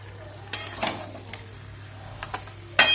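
Cabbage with a fish head simmers in a pan on very low heat, giving a soft, steady bubbling background broken by a few sharp utensil clinks and scrapes close by, with no talk.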